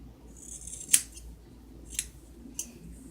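Scissors snipping across hair bangs, with three crisp metallic snips spaced unevenly, close and clear over a quiet background.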